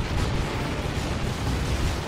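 Heavy plasma cannon fire from a Dawn of War 2 3v3 multiplayer battle, a dense continuous rumble of booming blasts and bursts with no clear gaps between shots.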